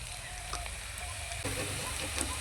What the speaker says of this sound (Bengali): পেঁয়াজের সঙ্গে কারি পাতা আমি কিছুক্ষণ হালকা করে ভেজে নিয়েছি।